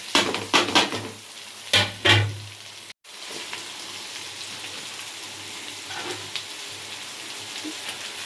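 Vegetables such as carrots, beans, capsicum and cabbage frying in a pan for fried rice, with a few loud stirring scrapes and clatters early on, then a steady close sizzle with faint crackles.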